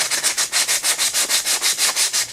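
Sanding a part from a junked Stihl string trimmer: quick, even back-and-forth strokes, about a dozen in a steady rhythm, close and crisp with nothing else heard.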